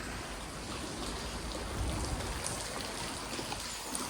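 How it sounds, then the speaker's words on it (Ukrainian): Water flows down from an aqueduct with a soft, steady rushing hiss and faint trickles, quiet and continuous throughout. "навіть вода протікає зверху"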